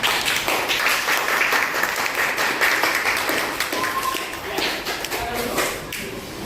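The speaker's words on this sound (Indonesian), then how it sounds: "kasih tepuk tangan yang mulia untuk kelompok Filipina" A room of people clapping steadily, a dense patter of hands that continues throughout, with some murmuring beneath.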